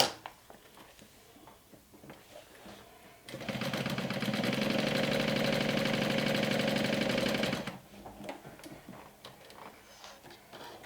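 A sewing machine stitches a glow-in-the-dark backpack in one steady, close whirring run of about four seconds, with quiet handling noises before and after.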